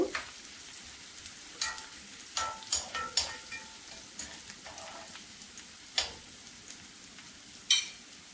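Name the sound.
onion and garlic frying in a pan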